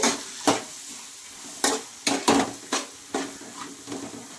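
Mango rice (pulihora) being stirred and mixed in a pan with a spoon, giving irregular scraping clinks and knocks against the metal, about eight distinct strokes spaced unevenly, close and moderately loud with faint sizzle between.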